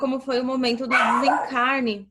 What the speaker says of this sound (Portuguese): desculpa se você ouvir latido no fundo